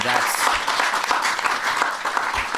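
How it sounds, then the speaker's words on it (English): Audience clapping during an interview, a dense patter of hands sustained across the stretch at moderate level, with a voice speaking over it. "Just clap your hands if you do."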